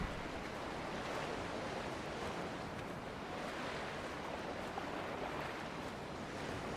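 Ocean waves wash steadily onto a beach in Dear Esther, a soft, constant surf roar with wind, alone and fairly quiet.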